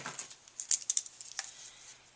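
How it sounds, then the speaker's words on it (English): A few crisp snips of scissors cutting paper, short sharp clicks spaced unevenly, close by and fairly quiet with no talking. "And all we're going to do is take our scissors"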